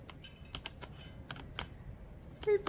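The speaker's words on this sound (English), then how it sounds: "So I riffle shuffle like that" A deck of cards is riffle shuffled by hand, giving a series of quick, faint clicking flutters at a close distance and ending in a slightly louder burst.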